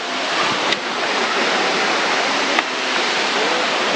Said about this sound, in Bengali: এই যে সে ঝর্ণা কত উঁচাতে